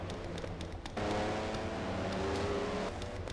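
Race cars run bumper to bumper into the second turn of an Opryland oval in a Mello Yello series race, a dense continuous engine roar that swells slightly, distant and steady with no talking.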